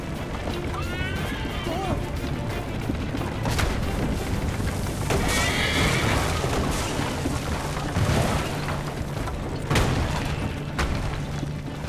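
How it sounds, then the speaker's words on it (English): In the Assassin's Creed Liberation video game, a horse whinnies amid hoofbeats and booming explosions during a frantic chase, with voices shouting throughout. "the horse!"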